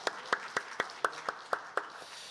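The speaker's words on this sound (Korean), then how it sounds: "우리 먼저 감사와 영광의 박수 올려드리십시다." A church congregation at a Sunday worship service claps in a slow, even rhythm. About nine distinct, evenly spaced claps sound faint and slightly distant.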